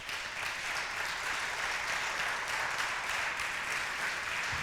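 A church congregation claps loudly and steadily during a worship service, a dense, continuous wash of hand claps with no pauses.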